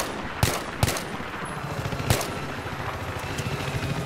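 Gunfire in the video game Battlefield 3, sharp loud shots cracking at irregular intervals over a dense, steady din of battle noise, alone without talk.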